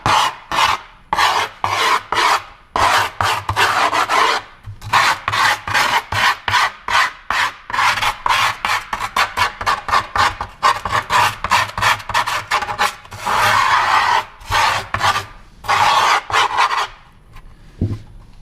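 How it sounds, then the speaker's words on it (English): A file scrapes around the edge of a skateboard deck through grip tape in steady, close, loud rasping strokes, repeated rhythmically with brief pauses between passes. "Take your file or your screwdriver or whatever you're using and scrape it around the outside of the board to kind of find the edge of the deck."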